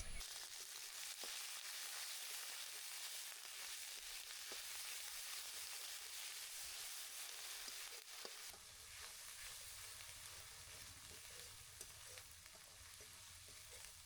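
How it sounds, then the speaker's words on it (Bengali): A paste of onion, garlic, cumin and mustard with green chillies fries in a pan, giving a steady, dense, close sizzle that continues for the whole stretch with occasional stirring. "পেঁয়াজ রসুনগুলো ভাজা হয়ে গিয়েছে"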